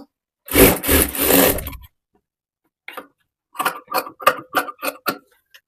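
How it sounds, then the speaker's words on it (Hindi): Scissors trimming extra blouse fabric, a long rasping cut followed after a pause by a rapid series of short crisp snips, close and clear with no talking. "जो हमारा एक्स्ट्रा कपड़ा है मैं उसको कट कर दूंगी।"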